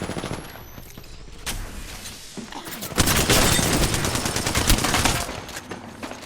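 Gunfire in Apex Legends, with bursts of rapid shots that grow into a heavy, sustained volley near the middle before easing off, under faint background game noise.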